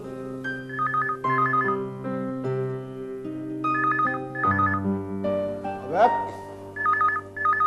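A telephone rings in repeated short trilling bursts, playing over a melodic tune with steady rhythmic accompaniment.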